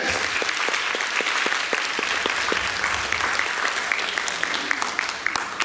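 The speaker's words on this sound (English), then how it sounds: "Can we clap for the Lord?" Audience clapping at a Divine Mercy family healing conference, a steady patter of many hands filling the hall for several seconds with no voices over it.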